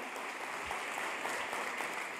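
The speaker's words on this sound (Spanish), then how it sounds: "Pero vamos a darle un aplauso." Congregation applauding during a church service, a steady dense wash of clapping that stays even and fairly loud throughout with no voices standing out.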